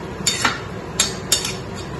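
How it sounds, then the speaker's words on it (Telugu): A cooking pot is set down on a home kitchen stove while biryani is prepared, giving a few light metallic clinks and knocks spaced across two seconds, close by with no voices. "పొయ్యి మీద గిన్నె పెట్టుకున్నాం."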